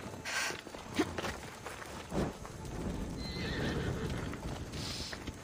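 A horse in the video game Assassin's Creed Odyssey whinnies loudly while hooves clip-clop, the neigh rising over steady galloping that carries through to the end.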